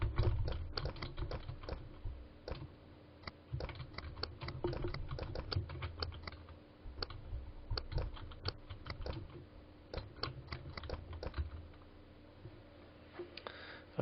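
Rapid typing on a computer keyboard while text is entered into a page-layout program, dense clusters of crisp clicks in bursts with brief pauses, close and steady, no voices.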